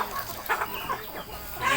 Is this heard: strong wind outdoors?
no